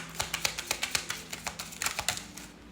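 Rapid, irregular crisp taps and flicks of tarot cards being riffled and shuffled close by, in quick bursts.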